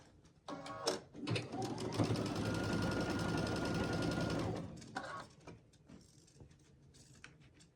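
Sewing machine stitching a quilt block seam, a steady close whirring run of about three seconds, framed by short bursts of handling and clicks before and after.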